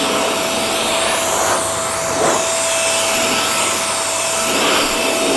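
A Blo Air S car blower fitted with a wide mouth nozzle dries a car, giving a loud, steady roaring rush of air with a fixed motor whine and slight swells as the nozzle is moved around.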